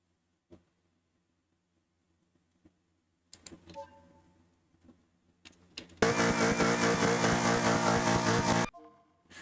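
Racing car engine in a Sega Dreamcast racing game, held at full throttle in a loud steady buzzing drone for a few seconds after scattered clicks and button presses, then cutting off abruptly.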